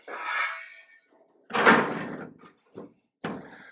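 A few thuds and clunks from a 1938 custom Cadillac's door, one heavier slam in the middle and smaller knocks after, close by in a quiet space.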